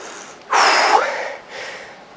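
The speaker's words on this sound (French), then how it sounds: "Désolé pour l'essoufflement." A person out of breath after a late-night leg workout gives a couple of heavy, rasping breaths close to the microphone, one stronger burst followed by a softer exhale.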